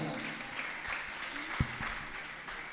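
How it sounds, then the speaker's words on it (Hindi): Steady applause from a crowd fills the whole stretch, with one sharp low knock partway through. "जोरदार तालियां"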